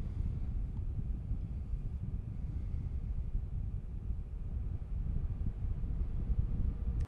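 A Dreo WiFi voice-control tower fan running in natural mode, a steady close low rushing airflow with heavy wind buffeting on the microphone, slightly swelling and easing, with no talking.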